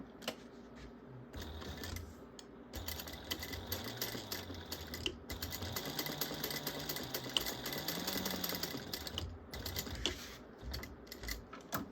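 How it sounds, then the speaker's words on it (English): A sewing machine stitches straight up and down across a bag strap piece, with backstitching, running as a steady close rattling whir for most of the stretch with a few brief pauses. "I'm going to just sew straight up and down there,"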